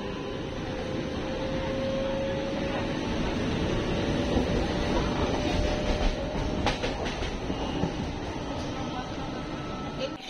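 A Howrah–Bandel electric multiple unit train rumbles steadily with a continuous roar, a faint high whine running through it and a brief clatter partway through.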